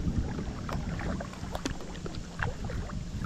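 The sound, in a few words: kayak paddling on a river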